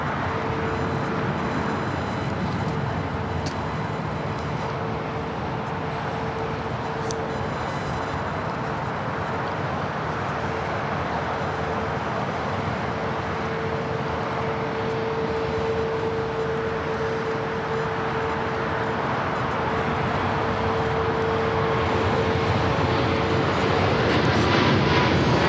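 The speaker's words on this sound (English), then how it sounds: "we're doing that 777 freighter now rolling down at 25 right, heading to Shanghai" A Boeing 777 freighter rolls for takeoff on runway 25 Right at LAX, its engines a constant loud roar with a steady tonal whine that swells slightly toward the end.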